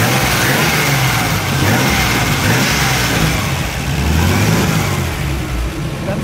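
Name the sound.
vintage supercharged car engine revving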